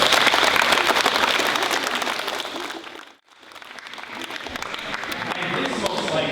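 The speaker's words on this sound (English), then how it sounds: "round of applause for choir" An audience at a 5th grade recognition day applauds the choir, a loud, busy round of clapping that breaks off briefly midway, then resumes and builds again.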